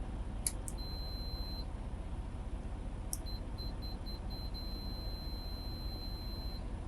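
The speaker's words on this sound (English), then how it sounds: "it's going to give you a beep noise if you have a good, clean connection" A multimeter on continuity test gives thin, high, steady beeps, one sustained tone, then a few short stuttering beeps leading into a longer tone, fairly faint over a low hiss.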